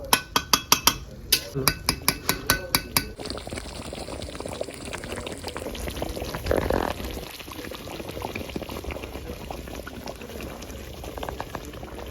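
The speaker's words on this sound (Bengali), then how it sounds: "আমি হাফ কাপের মতো জল দেবো" About a cup of water poured into a simmering chicken pepper gravy, a brief liquid splash over a close, steady bubbling and sizzling, after a run of sharp clicks at the start.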